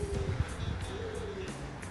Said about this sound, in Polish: O, jest następny gołąb.